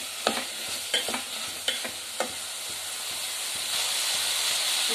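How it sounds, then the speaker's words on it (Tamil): Beans and carrots sauté in sesame oil, a steady hiss and sizzle heard up close, with several sharp clicks of a spoon stirring against the pan early on. "நல்ல எண்ணெயிலேயே வதக்கிட்டுங்க."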